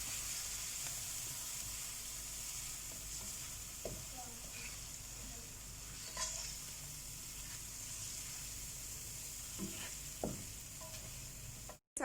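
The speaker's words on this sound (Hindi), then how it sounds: "आलू, और इसको हम हल्का सा फ्राई कर लेंगे।" Potatoes fry lightly in a pan with a soft, steady sizzle and hiss. A few faint clinks of stirring come through at a low, quiet level.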